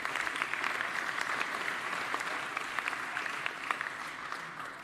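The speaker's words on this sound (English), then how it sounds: "Please give a round of applause to your Rebbeim and teachers." Sustained applause from an audience at a high school graduation ceremony honoring teachers, a steady dense clapping that holds evenly for the whole stretch without voices.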